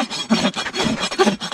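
A rasp filing and bevelling the wall of a horse's hoof, heard as close, rhythmic rough scraping strokes, about six back-and-forth passes in quick succession, loud and without talk.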